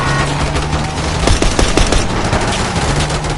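Rapid bursts of automatic gunfire rattle through a Call of Duty Black Ops 6 street fight, with several sharp, loud shots standing out against constant dense battle noise.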